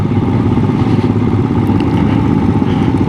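411 Scram motorcycle being ridden on the road, its engine a loud, continuous low rumble mixed with rushing wind noise over a few seconds.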